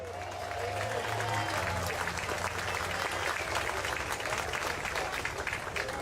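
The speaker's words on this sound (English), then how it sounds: "Norma and Dick, we got to give them a big round of applause." An outdoor crowd at a Music on the Green tribute concert applauds an anniversary couple, steady moderate clapping that runs evenly for several seconds, with a faint voice early on.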